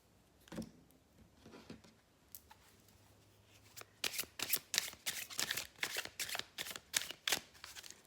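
Quiet rustles at first, then a rapid series of crisp riffling bursts as a deck of tarot cards is shuffled up close; no speech.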